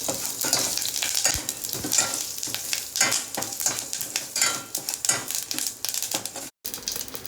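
Fenugreek seeds and asafoetida fry in hot oil in a pan for buttermilk curry, giving a crackling, popping sizzle with quick irregular ticks and utensil scrapes throughout.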